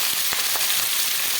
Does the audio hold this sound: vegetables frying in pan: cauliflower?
yes